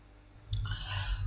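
A single sharp click, close and crisp, followed by a faint electronic hum.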